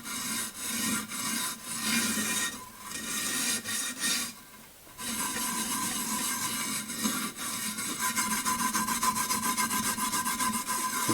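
Glaze being rubbed off a ceramic piece, a continuous scratchy rasping with repeated back-and-forth strokes, close and fairly quiet, with a short pause midway before rubbing resumes in quicker strokes.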